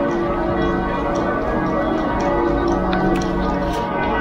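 Church bells ringing in Salzburg, a steady layered peal carried through the square at moderate distance, continuous over a noisy crowd background.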